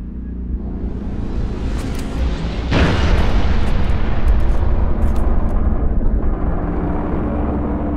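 Artillery final protective fire in the Halo game, a loud sudden explosion that swells into a heavy sustained roaring rumble, close and powerful, holding at full strength to the end with little talk.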